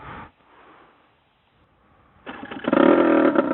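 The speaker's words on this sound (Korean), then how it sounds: "카랑카랑한 투사이클, 카랑카랑한 배기음이 들리는데" A 2008 Aprilia RS125 two-stroke motorcycle is cranked briefly, goes quiet, then fires and catches, its exhaust revving up loud and close with a raspy, buzzing tone.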